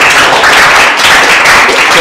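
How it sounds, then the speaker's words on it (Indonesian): A group of students and classmates clap in applause for a student group in a classroom, a dense burst of many hands clapping at once, loud and close, lasting a couple of seconds. "kasih tepuk tangan untuk kelompok 2"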